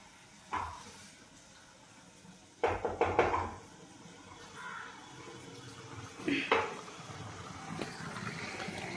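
A lid set over a pan of simmering matar paneer, peas and cottage cheese, giving a few close knocks and clatters of metal, with a louder cluster of bumps in the middle and quieter handling noises around it.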